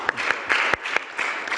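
Audience applause for a professor at the 2022 Jeju Forum on green technology and renewable energy, a short burst of many people clapping with distinct sharp claps punctuating the patter, close and moderately loud.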